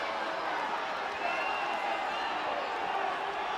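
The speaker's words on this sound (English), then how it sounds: "The crowd doesn't like it one bit" A large wrestling arena crowd at a WWF event makes a steady, murmuring roar of reaction that holds at a fairly even level and swells slightly partway through, with no clear individual voices on top.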